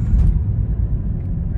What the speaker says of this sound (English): I'm gonna push the car here, 30 miles an hour